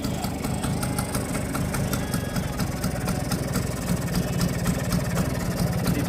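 A Vespa scooter's engine idles unevenly while its carburetor is tuned, a close, steady putter with a rapid uneven pulse that keeps running without a break.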